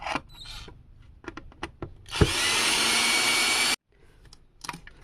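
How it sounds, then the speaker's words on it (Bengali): A power driver buzzes loudly and steadily for about one and a half seconds while taking screws out of a Microlab speaker. Scattered clicks and handling knocks come before it, and lighter taps follow. "তো আমি এক এক করে সব স্ক্রুগুলো খুলে নিই আগে"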